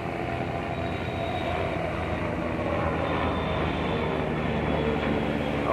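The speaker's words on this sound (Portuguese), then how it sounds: "O helicóptero da Polícia Civil." A Polícia Civil police helicopter flies over Praia do Mirante beach by the Mirante da Sereia lookout, producing a continuous, steady roaring rumble that fills the whole stretch without pause.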